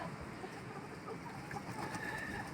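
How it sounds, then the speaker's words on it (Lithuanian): Hens cluck softly in a coop bedded with leaves, with steady low barnyard noise underneath and no clear speech. "Va, vištytės."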